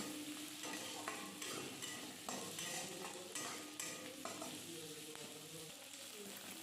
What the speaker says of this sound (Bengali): পেঁয়াজ ভাজা ভাজা মতো হয়ে এলেই আলুটা দিয়ে দিলাম এবার আমি আলুটাও নেড়ে চেড়ে নিচ্ছি